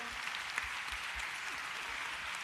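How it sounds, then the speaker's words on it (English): Audience applause at a live People Power Tour event in New Orleans, a steady dense wash of clapping held at even loudness throughout. "Keep clapping it up for these folks."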